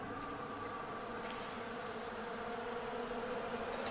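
A dense, steady swarm of hornets and wasps buzzes continuously in a droning hum, filling the scene with no voices over it.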